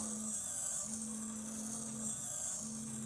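A micro servo motor spinning a part on an RC model of the Calypso ship, a faint steady electric whine with a thin buzzing tone that cuts in and out, close and quiet.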